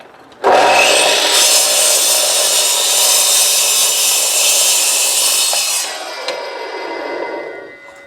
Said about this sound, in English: I'm going to continue cutting these until I'm completely out.